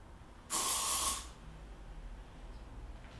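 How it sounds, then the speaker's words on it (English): A single close burst of hairspray mists over a finished ponytail, a bright steady hiss lasting under a second against a quiet room. "if you want to finish off with a light mist of hairspray over the top, you can do"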